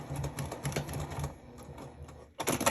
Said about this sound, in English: Sewing all the way to the end of your line, not going beyond it.